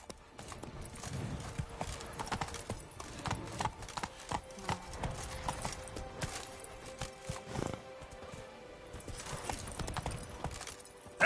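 The horse Roach gallops in The Witcher 3, steady rhythmic hoofbeats pounding on and on, with faint speech at moments.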